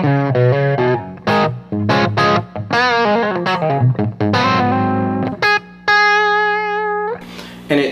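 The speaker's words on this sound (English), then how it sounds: "Then roll that tone back. And I've got this really cool kind of dialed back rhythm sound." Clean electric guitar played as a rhythm part with the tone knob rolled back, giving a dark, mellow sound. Chords and single notes ring loud and close with short gaps, ending on a sustained chord.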